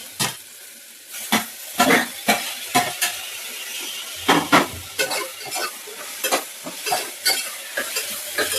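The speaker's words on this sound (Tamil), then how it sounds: "தக்காளி கொஞ்சம் போட்டு வணக்கிக்கலாம்." Tomatoes sauté in a pan for a South Indian rice-and-lentil dish, a soft sizzle broken by repeated close scraping and clattering stirs at an irregular pace, with no talking.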